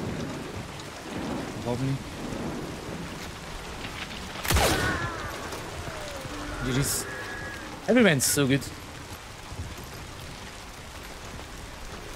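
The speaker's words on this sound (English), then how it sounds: "They didn't hear me because of heavy rain" Heavy rain hisses steadily through a video game scene, broken by a few sharp bursts and rumbles of thunder, while players talk over it.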